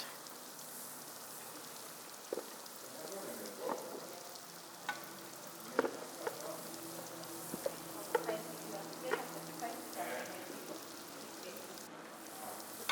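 Fish pan-grilling in a hot pan gives a steady soft sizzle and crackle, with scattered pops and light clinks from utensils and faint speech at times.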